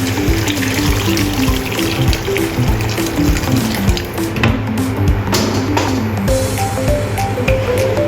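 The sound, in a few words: pouring a bowl of water into the soup pot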